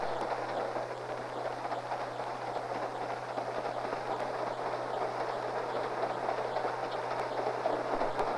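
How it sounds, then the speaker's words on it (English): A ski train climbs through the tunnel district of the old Moffat Railroad toward Winter Park, giving a steady, muffled interior rumble with a low hum and faint rail clatter throughout, with no voices. "The ski train travels through the famous tunnel district of the old Moffat Railroad"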